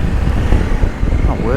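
A Honda Africa Twin DCT motorcycle, a 2021 ES model, rides at low speed with a loud, steady engine and wind rumble throughout while someone talks over it.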